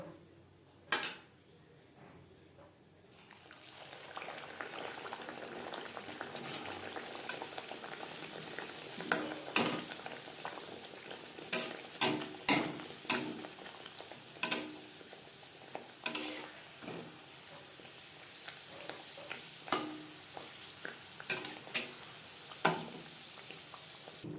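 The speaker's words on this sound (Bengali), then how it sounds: "এভাবে প্রত্যেকটা কচুরি ভেজে নেব" Pea-stuffed kachori deep-frying in hot oil, a steady bubbling sizzle running throughout with sharp clicks and taps from a utensil scattered over the latter half, close and fairly loud.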